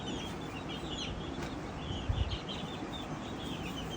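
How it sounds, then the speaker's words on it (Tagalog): A flock of chickens including about twenty young roosters clucks and murmurs continuously, soft overlapping calls at moderate distance over a steady background hum. "Daming tandang nan, siguro mga 20 tandang."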